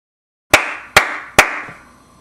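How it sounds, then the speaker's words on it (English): Three sharp, loud hand claps in a steady rhythm from flour-covered hands, each one ringing briefly into a short room echo, with silence before the first. "That's me clapping."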